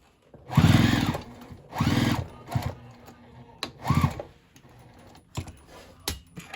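A sewing machine back-stitches on a fabric memory bag in several short whirring bursts separated by pauses and small clicks.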